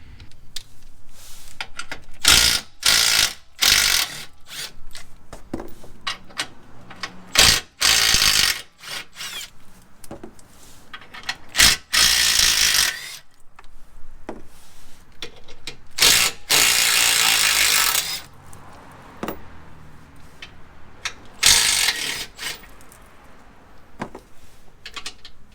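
Ratchet clicking in bursts while the undercarriage cover comes off a Ford Bronco with a 2.3L four-cylinder, loud close rapid pawl ticking broken by brief pauses and clanks, no voices.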